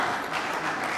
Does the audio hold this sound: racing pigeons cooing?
no